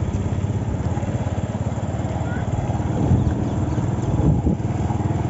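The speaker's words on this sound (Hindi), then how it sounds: "ये देखो हमारी हायाबूसा" Suzuki Hayabusa motorcycle engine idling and rumbling nearby outdoors, a steady low throb with a slight swell in revs midway, loud and continuous.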